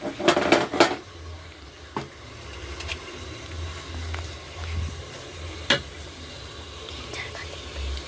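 Mutton fries in a pan for a kassa dish with a low, soft sizzle. A burst of metallic stirring clatter comes at the start, followed by a few sharp utensil knocks against the pan.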